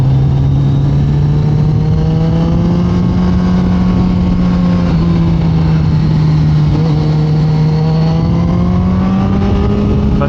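Kawasaki ZX14R motorcycle engine drones loud and close while riding, its steady tone rising and dipping slightly as revs shift, alone with no voices.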